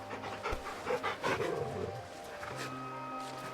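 A dog pants while being petted in the Final Fantasy XVI video game, a close, rhythmic breathy panting over soft game ambience and a low hum, without talk.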